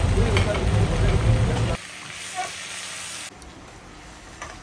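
A ground paste of roasted onions, shallots and dried red chillies goes into a hot pan for crab gravy, raising a loud close sizzle that quickly dies down to a softer fry while someone talks.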